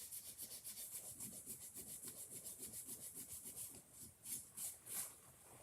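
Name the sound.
rubbing bendable wood for home decor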